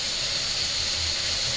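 Tempering added to boiling dal with tomato and vegetable stalks sends up a loud, steady hiss that stays constant and close for its short span, without any voices.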